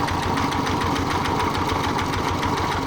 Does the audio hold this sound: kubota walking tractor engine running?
yes